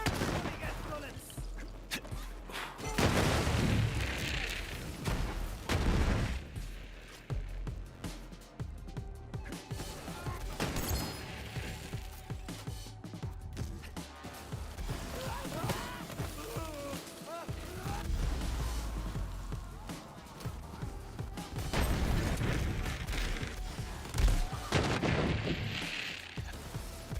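Rapid bursts of gunfire and explosive booms from the Borderlands game, played with Zane using a laser Sploder build in a raid, crackle repeatedly in dense volleys, with someone talking in between the shots.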